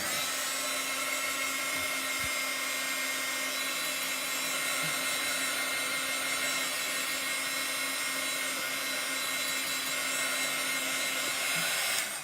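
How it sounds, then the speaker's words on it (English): A hair dryer blows steadily at close range, a constant whooshing whine with no pauses and no voices. "you can definitely use a heat tool or a hair dryer on cool"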